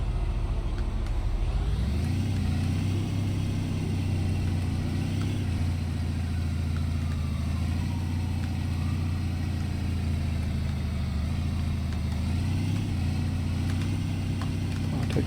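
Car engine droning while driving in the Big Ambitions video game, a steady loud hum with slight pitch shifts as it speeds up and slows.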